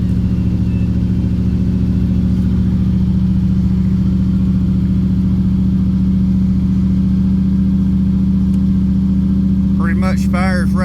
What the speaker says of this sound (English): the fast idle's a little high